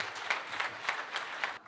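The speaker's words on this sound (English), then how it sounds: "I want you all to stand up and give the applause to His Excellency as he comes to address you" Audience applause at the launch event for the Prism Tower in Upperhill, Nairobi: a short burst of steady crowd clapping from a large gathering, fairly even throughout before cutting off near the end.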